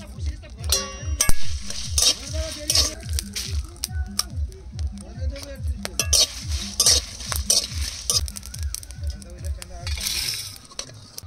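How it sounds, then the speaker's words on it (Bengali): Dry chillies, cumin, coriander, bay leaf and garam masala fry together in a pan, making busy stirring clangs and utensil clatter over a steady run of low rhythmic thumps, with faint voices in the background. "মান কচু রান্নার জন্য শুকনো লঙ্কা, জিরে, ধনে, তেজপাতা, গরম মশলা একসাথে ভেজে নেব"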